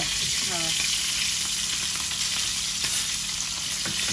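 Oil sizzling and frying steadily in a karahi, a constant bright hiss that stays loud throughout, with a brief voice-like tone near the start.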